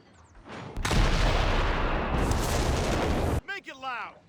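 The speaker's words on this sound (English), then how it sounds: "So things like howitzers and the Tiger, screen shake when they shoot, as well as when the shell explodes." Howitzer and Tiger tank shells firing and exploding in Company of Heroes 3, one heavy booming blast swelling into a long rumbling roar, then cutting off before a voice speaks at the end.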